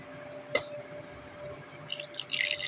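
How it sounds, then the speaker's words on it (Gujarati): Cold water, a few spoonfuls, is poured into freshly ground khaman chutney, giving a single soft click followed by faint, brief trickling and dripping near the end. "હવે થોડુંક ઠંડુ પાણી ઉમેરવાનું છે।"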